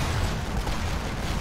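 Tank cannon fire in a Great War Western Front video game, a dense, continuous roar of booming low rumble. It is loud and unbroken throughout, with no talking.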